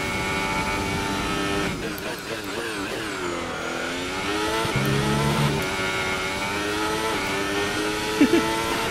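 An F1 race car in the game F1 2018 drives with a steady, high engine whine that rises and dips as it accelerates and shifts, continuous and close throughout.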